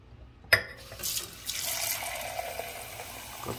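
Water splashes into a container for a flower bouquet after a sharp knock, a short gurgling pour with faint trickling and drips, fairly quiet and close.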